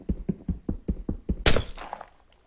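Minecraft glass block breaking: a run of about eight quick rhythmic hits, then one bright, loud shattering crash that trails off, with no voices.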